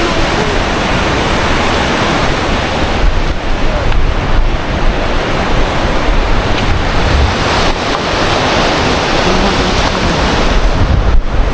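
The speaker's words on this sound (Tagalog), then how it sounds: "dito sa baba yung ilog." A rushing river flows below a closed mountain road, a loud continuous roar of water with wind buffeting the microphone throughout.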